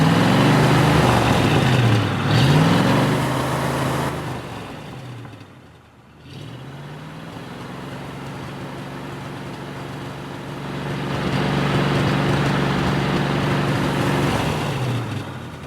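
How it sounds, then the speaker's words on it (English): A 1971 AMC AMX prototype engine revs up close, its loud roar swelling and falling several times, dipping briefly to a low idle before climbing again to a sustained high rev. "Can you rev it just so I can see how loud it's going to get?"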